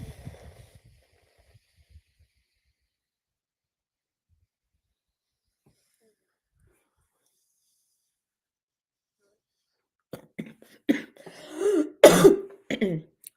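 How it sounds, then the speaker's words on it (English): A small cough and throat clearing near the end, short raspy bursts after a long quiet stretch with faint breathing at the start. "it was just a small cough"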